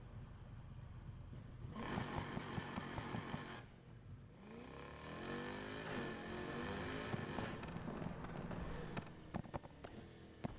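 A Ford Raptor in Need for Speed Heat, tuned beyond 1100 horsepower, revs hard with rising and falling engine sweeps, pops and crackles over game sound, at moderate level.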